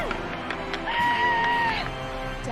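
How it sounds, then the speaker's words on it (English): A baseball stadium crowd in MLB The Show 19 roars after a home run, a dense swell of cheering and whooping that rises and holds for about a second before easing, with a commentator's voice mixed in. "The crowd goes wild."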